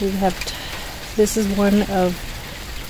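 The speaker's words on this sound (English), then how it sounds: "been raining nonstop for about 3 days" Steady rain falling outdoors after days of nonstop downpour, a constant soft hiss under a person talking.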